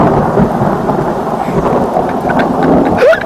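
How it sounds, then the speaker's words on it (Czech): A thunder sound effect plays as a continuous, loud rumbling roll of a thunderstorm with rain noise mixed in. It lasts about three seconds and ends with a brief higher sweep. "Jako nebo hrom, zvuk hromu."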